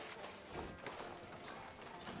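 Horse hooves clip-clop in Red Dead Redemption 2, arriving outside a sheriff's office in a western town, a steady close rhythm of hoofbeats over a busy background with faint voices.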